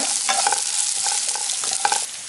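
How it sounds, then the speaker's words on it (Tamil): Onions sautéing with garlic, ginger and green chili in a pan for a soya and pea gravy, giving a steady sizzle broken by several scraping stir strokes from a spoon. It is close and alone, with no talk. "இப்போ நம்ம வெங்காயம் ஆட் பண்ணிக்கலாம். இதையும் நல்லா வதக்கிட்டோங்க."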